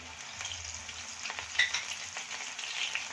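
Lightly crushed garlic fries in hot oil for potato chivda, producing a steady, close crackling sizzle with small pops and occasional stirring, alone without speech.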